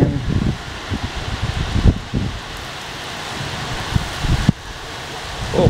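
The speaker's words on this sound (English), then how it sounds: "see the wind" Strong wind and rain during a June storm in Granby, Quebec roar in loud, rough gusts with buffeting rumbles against the microphone, continuous across the whole stretch.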